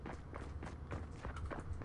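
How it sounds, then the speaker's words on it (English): Quick running footsteps in Fortnite patter in a rapid, even rhythm over steady game background noise, with no talk. "I hear the pitter patter of little feet."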